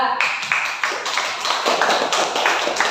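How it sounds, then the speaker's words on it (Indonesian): Students in a computational-thinking class clap for a presenting group, with a string of distinct, fairly rhythmic claps that sound like a small group clapping in unison. "Oke, sekali lagi tepuk tangan untuk kelompok 2."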